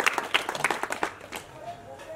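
Scattered clapping from a crowd welcoming a guest at a village election rally, a handful of distinct claps that thin out quickly under a speaker's voice, fairly faint.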